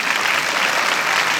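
Audience applause at a French film event, celebrating the film's script supervisor Laurence: dense, steady clapping from a crowd, fairly close and sustained throughout.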